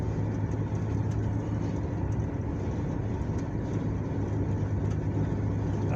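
A shaking 1989 Plymouth Acclaim drives on a bad tire, giving a steady, loud low rumble of road and engine noise from inside the car, with no talking.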